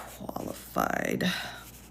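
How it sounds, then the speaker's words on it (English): Pen scratching out a sticky note at close range, a few quick strokes with a short squeaky scribble in the middle, with no talk over it. "let me write my little sticky note out here"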